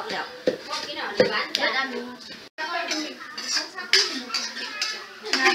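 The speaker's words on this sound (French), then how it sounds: "elle les écrase dans le pot en terre cuite pour la sauce" Tomatoes for balterre sauce are crushed in a terracotta pot with irregular dull thuds and scraping knocks, close by, with faint voices in the background.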